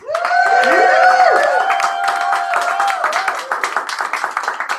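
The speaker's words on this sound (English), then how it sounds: "I would like to give a round of applause to all the poets tonight" A live open mic poetry reading audience bursts into loud whoops and cheers that settle into steady, dense applause, the clapping carrying on to the end.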